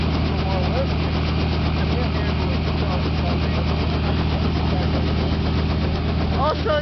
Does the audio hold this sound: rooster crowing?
no